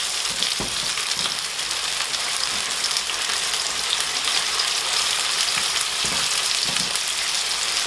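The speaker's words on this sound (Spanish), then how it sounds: "Verás que a la cebolla no le estoy echando ni pimienta, ni sal, ni nada, sino simplemente la estoy rehogando." A pan of onion sautés with a steady, dense sizzle that holds loud and close throughout, broken only by faint stirring scrapes, with no talking over it.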